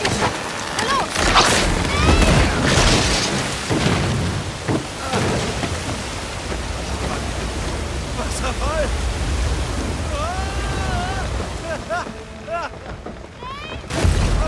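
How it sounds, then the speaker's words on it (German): Rushing, roaring water from a waterfall in the video game Uncharted 4, a dense broadband wash that runs continuously and loudly, overlaid with game music and action sounds while voices speak intermittently. "Wasserfall!"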